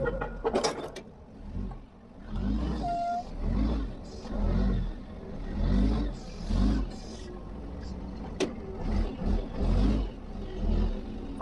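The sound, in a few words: forklift engine revving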